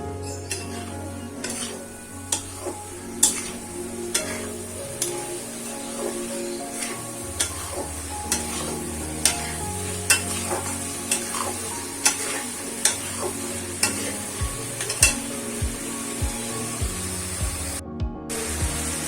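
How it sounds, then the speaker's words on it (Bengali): Onion and garlic paste sizzles steadily in a pan for keema chana masala while a spoon stirs and scrapes it, leaving regular sharp clinks against the metal over the continuous frying hiss. "আমি পেঁয়াজ বাটাটা রসুন বাটাটা নাড়তে থাকবো যতক্ষণ না কাঁচা গন্ধটা"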